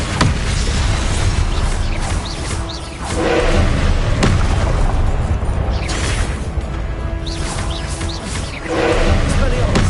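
Heavy booming blasts from the Confringo fire spell in Hogwarts Legacy, several loud thumping explosions with rumbling tails spread through the stretch, mixed with game effects and a voice talking.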